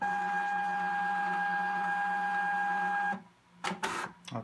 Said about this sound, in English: The printer needs to do a self-calibration